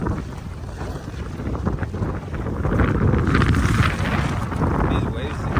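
Strong wind buffets the microphone out at sea by jet skis off Turks and Caicos: a loud, continuous rumbling roar that swells and surges, with no clear speech over it.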